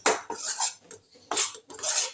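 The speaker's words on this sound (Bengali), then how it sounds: "খুব ভালো করে আমি নেড়ে নিচ্ছি, ছাতুটাকে ভাজা ভাজা করে নিচ্ছি" Sattu (gram flour) with chili and coriander powder is dry-roasted in a pan, stirred with a metal spatula that scrapes and clinks against the pan in several short close bursts separated by brief pauses.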